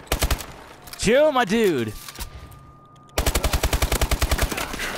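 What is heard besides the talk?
gunfire in a video game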